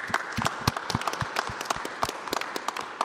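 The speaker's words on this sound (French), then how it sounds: "Merci, ma sœur, on vous applaudit." A church audience at Sacré-Cœur in Angoulême applauds, a moderate patter of overlapping claps heard from close by and holding steady throughout, with no talking.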